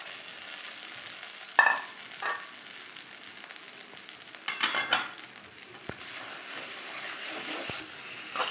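Prawns cooked in a poppy seed masala in a pan, a faint low sizzle with a few louder bursts of stirring and scraping, close by and mostly quiet between them.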